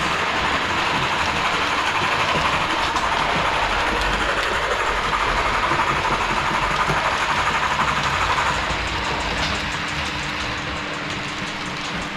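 A model GWR 44xx steam tank locomotive's DCC sound running continuously at full speed hauling coaches, with a steady rumbling chuff and hiss, easing off slightly near the end as it stops; no voices.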